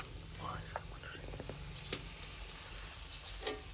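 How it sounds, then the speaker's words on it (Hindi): Cardamom drops into sizzling homemade ghee in a village kitchen, giving a soft continuous frying hiss with a few faint clicks and stirring sounds, low in level and fairly close. "यहाँ पर इलायची है, इलायची डाल रहे हैं इसमें"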